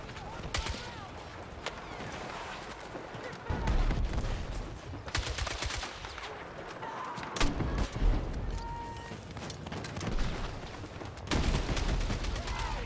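Close, loud automatic gunfire in Battlefield 6, repeated bursts and rapid volleys with louder explosive booms, over a busy battlefield din and occasional talk.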